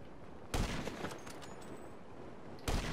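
Bursts of gunfire in the video game GTA V: two sharp loud volleys roughly two seconds apart, with a softer rattle of shots between them.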